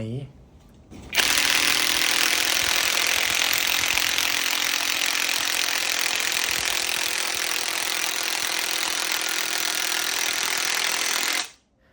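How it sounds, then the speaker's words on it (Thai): A TEXUS BULL TX-9712 cordless impact driver rated at 550 Nm drives a screw into wood, giving one long, loud, steady hammering whine of about ten seconds that starts and stops abruptly. "เดี๋ยวมาลองฟังเสียงเวลาที่อัดสกูเข้าไปในไม้นะครับว่าจะนิ่มแค่ไหน"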